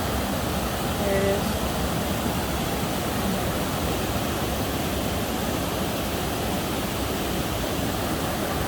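Amish Car Wash Falls, a waterfall in the Ozark Mountains of Arkansas, roars as a steady, loud wash of broadband rushing water, constant and unbroken throughout with no one speaking.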